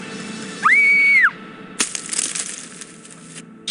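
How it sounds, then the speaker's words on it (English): In the Gabriel Knight 2 video game, a beast attacks a child: a sustained high wail or scream, then a sudden loud crack and crunching struggle that fades into quieter scuffling. "And that is when the beast strikes."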